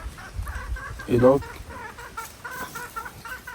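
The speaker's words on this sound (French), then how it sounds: "Les poulets aussi veulent sortir dans la vidéo." Chickens cluck at a campsite under a man's speech, with one louder squawk standing out among soft, repeated clucks nearby.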